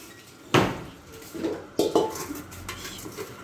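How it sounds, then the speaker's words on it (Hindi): Dishes and cutlery are being washed at a sink, with pots and utensils clattering in a few sharp, close clanks and softer clinks, and no talking. "ये बर्तन धुला रहा है"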